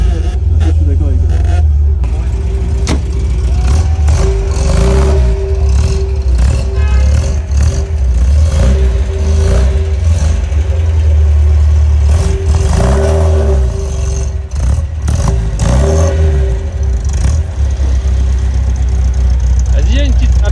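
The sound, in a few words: MGB GT engine revving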